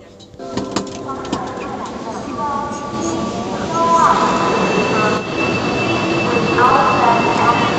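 A metro train on a Chinese line rumbles steadily, with wheel squeal and tonal whines rising and growing louder midway, and the loud running noise continues to the end.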